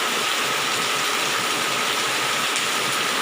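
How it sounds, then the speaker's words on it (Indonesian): Heavy rain pours down at night in front of a house in a rural Indonesian village, a dense, steady broadband hiss that grows harder and more intense, with no voices over it. "tiba-tiba hujannya sangat deras sekali ini. Makin kencang, makin deras hujannya"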